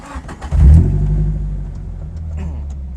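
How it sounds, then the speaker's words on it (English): A restored Datsun 510 with a Hakosuka conversion cranks briefly, then fires up into a loud, close rev that settles into a steady, rumbling idle, with a voice speaking at the start. "So we're gonna start the car right now"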